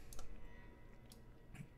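Arkham Horror game cards are shuffled by hand, giving soft, quiet papery clicks and brief riffling bursts spread over a couple of seconds in a hushed room.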